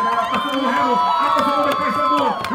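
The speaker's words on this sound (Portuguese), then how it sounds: "Olha a torcida faz barulho" Supporters at a sports festival of games in Nazaré cheer and shout together, a dense, loud crowd roar with whoops and voices rising throughout, steady and close.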